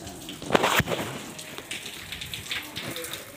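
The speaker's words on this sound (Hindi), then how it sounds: "बारिश भी हो रही है।" Steady rain patters close by, with a few sharper splashes and drips standing out early on.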